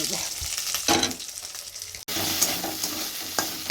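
Four fish and onion frying in hot oil, a dense close sizzle with stirring scrapes, briefly cut off midway before the crackle resumes.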